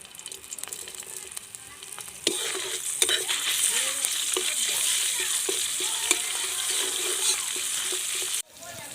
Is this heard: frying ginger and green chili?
yes